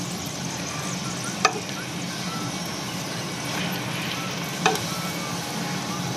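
Gyoza frying in a pan: a steady, even sizzle throughout, with two faint brief clicks rising above it.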